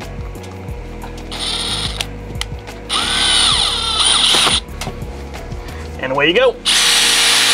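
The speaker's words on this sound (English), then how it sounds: "Take a drill with the bit." A power drill drives a screw into wood to mount a cable kit for string lights. There are several short whirring bursts, close and loud, with hand tool clicks between them and a voice speaking briefly.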